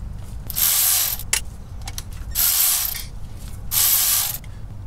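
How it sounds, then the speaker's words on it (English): Ratchet loosening bolts on the front axle of a first-generation Toyota 4Runner, three bursts of rapid, close ratcheting separated by short pauses and scattered light clicks of metal. "These bolts shouldn't be on there very tight, so you should be able to remove them with relative ease."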